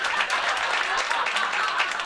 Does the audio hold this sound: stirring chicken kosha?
no